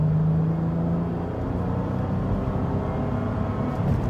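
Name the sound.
1998 Honda Accord VTEC engine running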